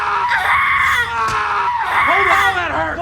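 A woman's scream from a Star Wars series, loud and harmonic, rising in two long strained bursts with a short break between them, delivered close and filling the whole clip.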